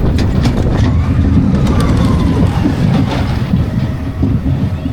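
A spinning roller coaster, a standard figure 8 family model, rumbles along its track with a loud, steady roar and rattle of wheels, heard from on board.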